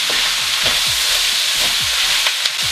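Cumin and paprika being stirred into sautéed beef in a hot pan: a steady frying sizzle with hiss runs throughout, broken by repeated scraping strokes of the spoon, close and fairly loud, with no voices.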